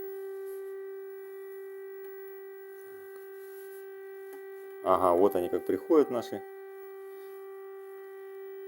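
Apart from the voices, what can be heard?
air raid siren wailing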